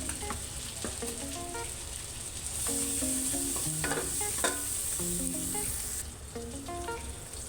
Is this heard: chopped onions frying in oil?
yes